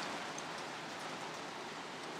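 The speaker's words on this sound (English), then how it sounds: "It is raining super hard." Heavy rain pours down steadily, a dense, continuous hiss of drops with no breaks, moderately loud and with no voices over it.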